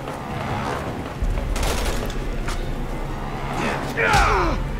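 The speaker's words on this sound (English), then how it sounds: "This guy's shooting him." Gunfire in the co-op video game Resident Evil 6, a few muffled shots and bursts amid game noise and mixed with someone talking over them, with one sharper blast near the end.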